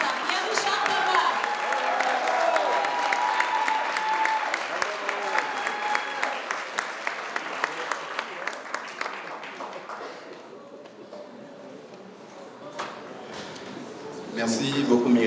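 Warm, sustained applause from an audience at a Black History Month 2024 event, with cheering and voices mixed in over dense clapping that thins out toward the end, then swells again briefly.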